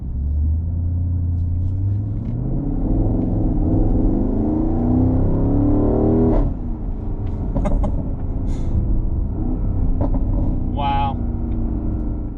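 A 2020 Porsche Cayenne Turbo S E-Hybrid SUV drives with a deep engine and exhaust rumble that rises and falls, with a few sharp crackles and pops, heard from inside the cabin while a person talks over it.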